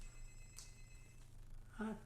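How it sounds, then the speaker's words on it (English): An old-time landline house phone rings faintly in the background of a room, with a short bell-like burst near the end that stays well back behind a low hum. "That is an old-time house phone that you hear ringing in the background"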